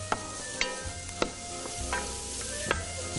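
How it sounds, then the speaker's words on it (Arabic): Carrots and garlic with cardamom frying in a pan for a salmon dish, a steady close sizzle broken by several sharp clicks and scrapes of stirring. "بننزل عليهم الجزر برضه بنحمصهم شوي ببعض اذا شم انت ريحه الثومه تحمصوا"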